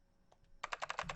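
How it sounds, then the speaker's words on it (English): Quick burst of fast keyboard typing from a video game, a rapid run of close, crisp key clicks starting abruptly after a couple of faint taps. "You're typing so fast, I can't even see your fingers."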